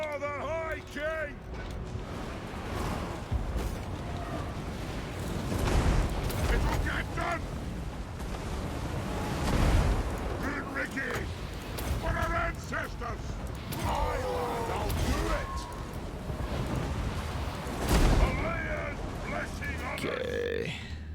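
Heavy battlefield fire pounding troops in Total War Warhammer 2, repeated booming volleys and rumbling impacts amid clattering and shouting voices, with someone talking over the din.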